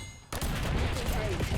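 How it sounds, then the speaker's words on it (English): In Black Ops 6, a hand cannon fires in a sudden loud burst after a brief quiet moment, with dense sustained gunfire and game noise continuing to the end. "We're gonna pull out the hand cannon."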